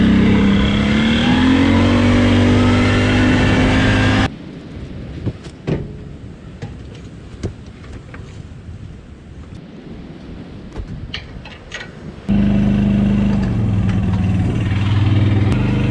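A quad bike engine runs loud and close with a droning, revving tone, cuts away to quieter rattling and clanks mid-stretch, then returns at full volume.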